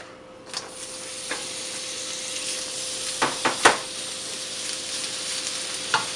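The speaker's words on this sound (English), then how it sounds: "The oil is heating up. Now I will add the chopped onion." Chopped onion fries in hot vegetable oil with a steady, fairly loud sizzle and hiss, broken by a few sharp clicks of a utensil against the pan and no voices.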